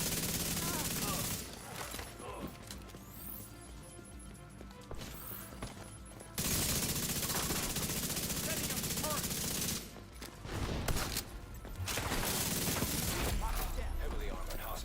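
Automatic turret fire in The Division 2, sustained bursts of rapid gunfire that break off and resume, loud and close against a dense game soundscape, with a short pause around the middle.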